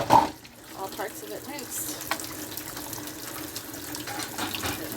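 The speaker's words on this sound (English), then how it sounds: "now I'm going to rinse it off. I'm going to unlock that part and get all parts of it rinsed." Kitchen gadget parts rinsed under a running tap, the water stream gushing steadily into a sink with small clatters of plastic pieces being handled.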